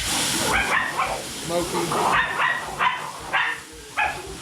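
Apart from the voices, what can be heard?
dogs barking and running through the kitchen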